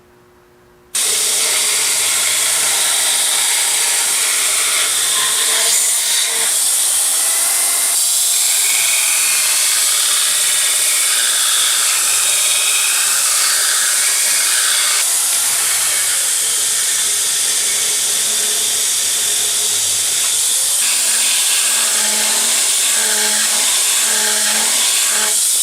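A 2x72 belt grinder grinds a forged steel Norwegian broad axe head, a loud, continuous hissing roar that holds steady for the whole stretch after a brief quiet start, with small shifts in pitch as pressure changes.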